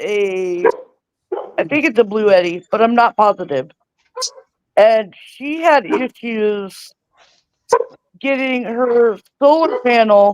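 A dog barks repeatedly and restlessly at close range, its barks mixed in with a person talking steadily on the phone.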